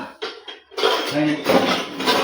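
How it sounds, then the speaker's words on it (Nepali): Dishes clatter and clink briefly up close, a short burst of rattling pots and plates. "भाँडा धोएर माथि लजानु पर्यो"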